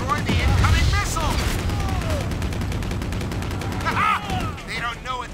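Video game gunfire aimed at an incoming missile in Stranglehold: dense bursts of rapid shots over a low rumble, with ricochet-like whines and shouted voices mixed into the battle noise.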